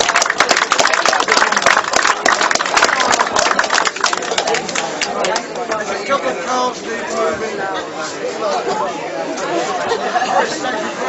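Applause from an audience at the Rye House Rockets speedway riders' presentation night in 2007, dense and steady for about five seconds before fading into loud crowd chatter and voices.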